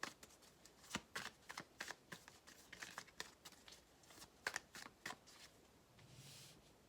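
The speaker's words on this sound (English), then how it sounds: "I'm going to pull 2 more cards for you" Tarot cards are shuffled and drawn by hand, a quick run of crisp riffling flicks and soft slaps in an uneven rhythm, close and fairly quiet, with a brief rustle near the end.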